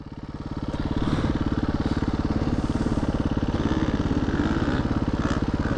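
A motorcycle engine runs loud and close throughout on a dirt track where trees have been cleared, its steady rapid firing pulses rising slightly as the bike passes, with no talk over it.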